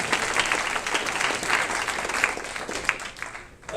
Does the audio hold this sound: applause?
yes